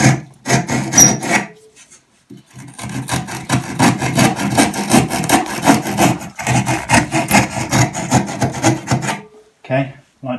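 Hand saw cuts into wooden floorboards during a living room floor renovation, a loud, close rasping in quick back-and-forth strokes with brief pauses between bursts.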